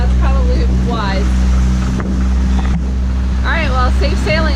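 A boat pushes through ocean waves with a loud, steady engine drone and rushing wind and water noise, while people talk and shout over it.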